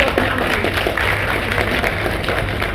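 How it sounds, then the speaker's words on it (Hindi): A seated audience claps together in a sustained, even burst of applause, dense and moderately loud throughout, with no voice rising above the clapping. "तो मैं चाहूंगा एक बार आप अपने लिए जोरदार तालियां बजाते हैं"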